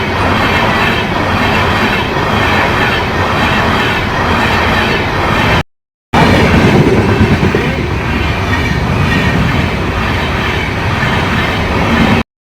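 A passing train rolls by loud and close, with steady clickety-clack from the wheels on the rails and a faint squeal. The rumble runs almost unbroken, cut only by one brief silence.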